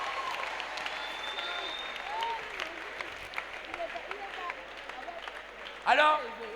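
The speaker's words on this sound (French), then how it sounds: "On acclame le Seigneur, on pousse un cri de joie." A church congregation applauding and cheering during a French-language worship service, a steady wash of clapping with a voice speaking over it and scattered whoops, swelling into a louder cheer near the end.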